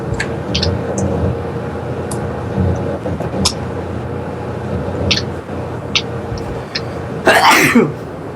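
One sharp, loud sneeze bursts out near the end over a low background rumble with scattered faint clicks.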